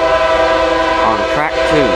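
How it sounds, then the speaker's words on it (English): A CSX freight train rolls past at Folkston, its horn holding a loud, steady multi-tone chord throughout, with brief gliding vocal sounds breaking in near the end. "CSX Q something coming by Folkston"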